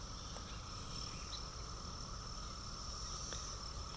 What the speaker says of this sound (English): Oh, there's a cicada. They're everywhere.